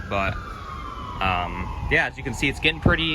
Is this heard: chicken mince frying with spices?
no